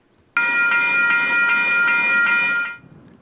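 LRT Metro light rail train on the line toward NAIT, passing close and loud with a steady rumble and bright ringing tones, holding for about two seconds before quickly fading away.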